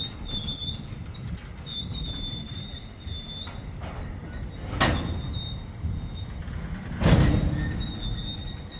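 A long CSX intermodal freight train carrying containers rolls past outdoors with a steady rumble, high wheel squeals that come and go, and two louder bursts of clanking as cars go by.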